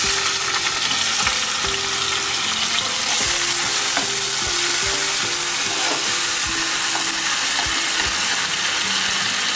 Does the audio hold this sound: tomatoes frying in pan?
yes